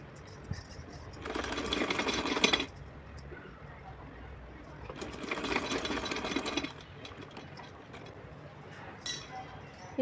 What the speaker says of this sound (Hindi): तो चलिए सिलती हूँ, सिल के दिखाती हूँ आपको।